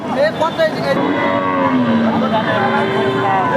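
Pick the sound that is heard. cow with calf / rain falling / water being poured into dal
cow with calf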